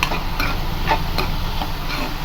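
Ridge gourd sautéing in a pan gives a steady, close frying hiss with soft intermittent stirring scrapes, moderately loud and continuous with no voices.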